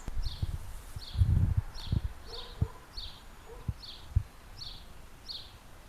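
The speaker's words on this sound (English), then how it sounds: "So that's the house sparrow sound." A house sparrow chirps over and over in a steady, evenly spaced series of short calls, with rustling and low thumps underneath.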